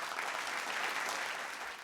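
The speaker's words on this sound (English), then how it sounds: "please welcome them with a huge round of applause" Sustained audience applause at an awards and talk event, a dense steady wash of many hands clapping at even loudness throughout, with no talking over it.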